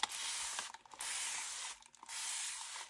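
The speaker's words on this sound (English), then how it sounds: "Gonna mist my paper." A spray bottle mists a sheet of paper in three bursts of hissing spray, each about three-quarters of a second long, separated by brief pauses with faint clicks of the trigger, close by and with no talking.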